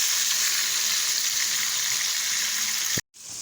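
Chicken frying in ginger garlic chili paste for Sindhi biryani, a loud steady sizzle that runs unbroken for about three seconds before cutting off abruptly and returning more softly.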